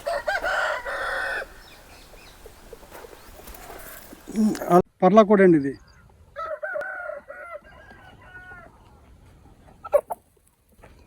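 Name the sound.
rooster clucking, fighting cock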